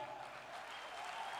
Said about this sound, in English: We want you to give a big hand to our great performers that have given us a great song.